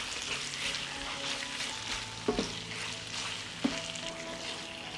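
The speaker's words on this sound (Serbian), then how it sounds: "Džigericu pržimo na nižoj temperaturi jer hoćemo da ostane mekana, a ne prepečena." Chicken livers frying in a pan over lower heat, a gentle continuous sizzle with two brief knocks of stirring, close by and without voices.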